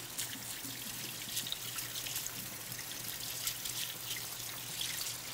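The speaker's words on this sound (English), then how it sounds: "I'm going to get rid of this cutting board and just rinse this off." Water runs steadily from a kitchen tap while a cutting board is rinsed in a home kitchen during seafood Newburg prep, a continuous close trickling and splashing with no talk.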